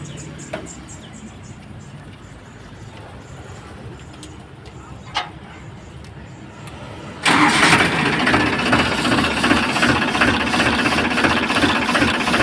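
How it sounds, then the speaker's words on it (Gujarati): A 2023 Farmtrac 42 tractor engine cranks and catches after a quiet stretch with a few clicks, then settles into a loud, steady running rumble. "હું તમને ટ્રેક્ટર ચાલુ કરીને બતાવીશ."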